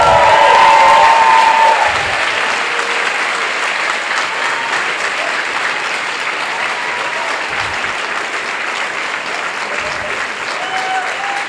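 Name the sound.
crowd applause for race runners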